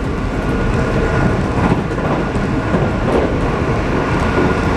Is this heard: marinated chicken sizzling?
no